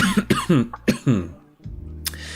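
Several short, sharp coughs in quick succession, close and loud, followed by a brief throat-clearing sound.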